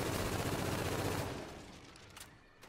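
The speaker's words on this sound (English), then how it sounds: "Submachine gun kill." Submachine gun fire in a video game, a loud continuous burst that rattles steadily for over a second, then tapers off into a quieter tail with a couple of faint stray pops.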